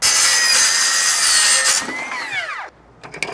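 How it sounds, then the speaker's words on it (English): A skill saw trims a molded housing, a loud high-pitched cutting whine that holds for nearly two seconds, then spins down with a falling pitch, followed by a few light clicks. "get our skill saw"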